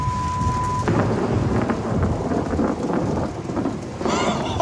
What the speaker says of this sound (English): the rain is almost vengeful